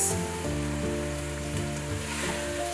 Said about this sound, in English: the onion is left just sizzling in oil